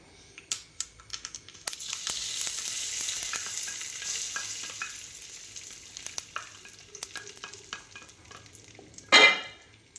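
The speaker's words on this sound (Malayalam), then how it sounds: "അപ്പം നമ്മുടെ കടുകൊക്കെ പൊട്ടി വന്നിട്ടുണ്ട് അത് നമുക്ക് ഇതിലേക്ക് ചേർത്ത് കൊടുക്കാം" Mustard seed tempering poured into a pan of Kerala-style egg curry, giving a steady loud sizzle and bubbling with stirring clatter, ending in a sharp brief burst near the end.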